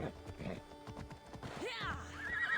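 Horse in Assassin's Creed Odyssey gives a loud whinny after a stretch of hoof clip-clops, the neigh rising and wavering near the end.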